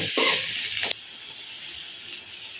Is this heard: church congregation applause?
no